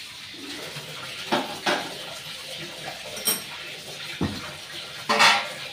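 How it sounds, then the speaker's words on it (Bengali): A kadai is being washed clean in a home kitchen, giving a few scattered metallic clanks and scrapes over a faint watery background, fairly close and sparse. "কড়াইটা আমি ধুয়ে পরিষ্কার করে বসিয়ে নিচ্ছি"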